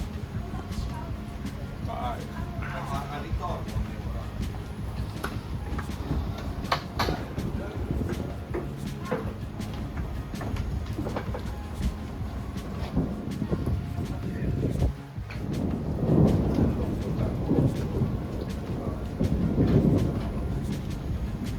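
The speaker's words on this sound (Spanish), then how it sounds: "Estos vagones panorámicos están unidos a un tren normal, creo." Bernina Express panoramic carriages run through Switzerland with a constant low rolling rumble and occasional rattles, heard from inside the train under on-board voices, with a louder stretch of rumble near the end.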